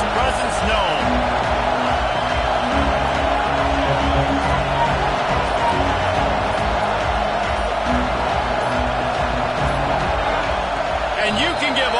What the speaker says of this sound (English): This crowd bringing the energy and noise